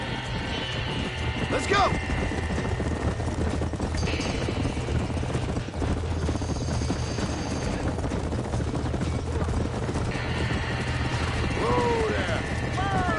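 Horses clatter and stamp inside a burning barn in the Red Dead Redemption video game, with hooves, rattling mechanical noise and a steady roar filling the scene while a voice shouts.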